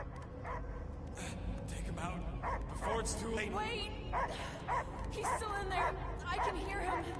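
Dog barking and yipping in a tense scene, repeated short barks and whimpers near and far under ongoing speech and background noise.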